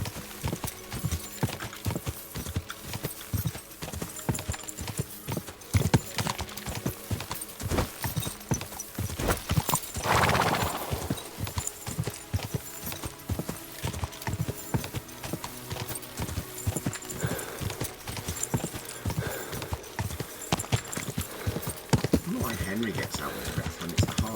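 Steady horse hoofbeats from the video game Kingdom Come: Deliverance II clip-clop in a quick rhythm for a long stretch, with a brief whoosh midway and occasional talking over them.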